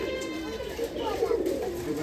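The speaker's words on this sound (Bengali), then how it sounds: "চারিদিকে ছড়া আছে কবুতর।" Pigeons coo softly in a steady murmur on a country pigeon farm, the low throaty calls overlapping continuously through the short stretch with faint background activity.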